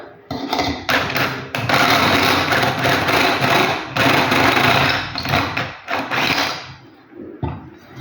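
A step drill bit boring a 12 mm hole, a loud rough grinding whine in long bursts with short pauses, close by and without talk.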